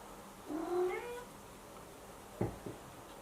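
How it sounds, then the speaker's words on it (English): A single soft cat meow, fairly faint, followed by a couple of light bumps in a quiet room. "Heard him meow."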